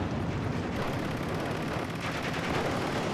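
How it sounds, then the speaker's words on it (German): A German MG42 machine gun in a Steel Division 2 battle, a loud, unbroken stream of rapid fire that fills the whole moment, with battlefield noise blended underneath. "Das MG42 kann wieder schießen."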